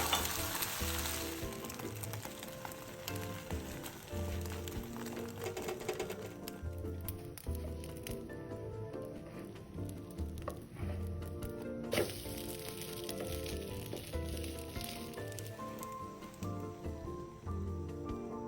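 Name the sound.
frying egg slices for tuna egg roll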